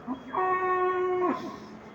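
A single cow or bovine at a livestock market lets out a loud, drawn-out moo lasting about a second, close by, with quiet market background before and after.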